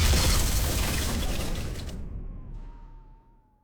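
An AI-generated explosion effect: a loud, broad blast that fills the space, then decays over several seconds into a rumbling tail, with a thin, faint whine lingering at the end.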